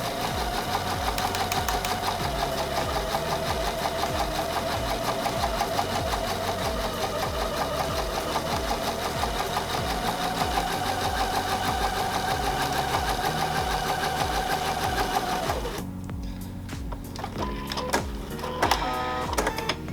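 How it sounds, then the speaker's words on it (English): A sewing machine runs steadily and loudly at close range with a fast mechanical whir and clatter, then stops near the end, leaving a few faint clicks and handling noises. "getting to know your machine, is getting to know what it sounds like"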